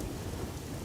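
Heavy rain pours steadily with a low thunder rumble underneath, forming a dense continuous wash of noise.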